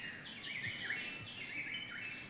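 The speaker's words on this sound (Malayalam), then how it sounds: "നല്ല കിളികളും തത്തകളും" Birds and parrots chirp and twitter continuously in the background, a bright chorus of overlapping calls among green fields, with no one speaking.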